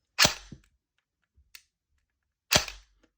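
Two sharp plastic trigger-reset clicks from a Novritsch SSE18 airsoft pistol about two seconds apart, with a faint softer tick between them. Close and dry, no voices.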